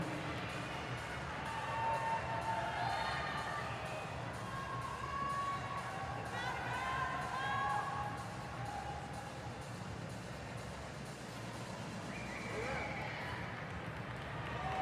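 A large crowd at the CrossFit Games Semifinals cheers and shouts in a broad, continuous roar, with a commentator talking over the noise throughout.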